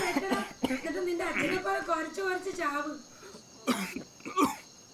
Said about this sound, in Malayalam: ഭയങ്കര ചുമയാണല്ലോ